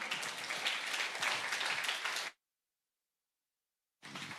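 Sustained audience applause and cheering at a formal diplomatic development gathering, a loud dense wash of clapping that stops abruptly, then resumes briefly after a silent gap.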